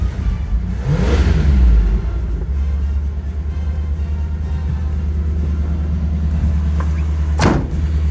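Engine of a 1979 Chevy G20 van catches and settles into a steady low idle rumble nearby, with a short rev as it starts and a faint clunk near the end.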